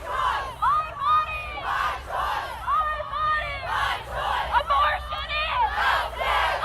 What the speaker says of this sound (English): passions are running high in this crowd, several hundred people deep